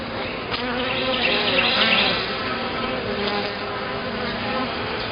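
Honey bees hum around an open hive during an inspection, a steady close buzz that swells briefly and then settles, with no talking.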